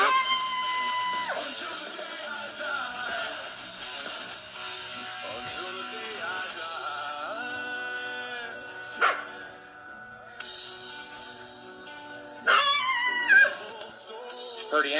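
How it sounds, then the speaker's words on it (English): A coyote caught in a trap howls and yips in long, wavering high cries, with sharp rising yelps breaking out near the end; fairly close and clear. "pretty interesting to get them on video howling like that, especially caught in a trap."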